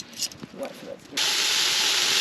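Onions and garlic dropped into a hot pan at a campsite burst into a loud, steady sizzling hiss that starts abruptly and holds, after a few moments of faint voices and quiet kitchen noise.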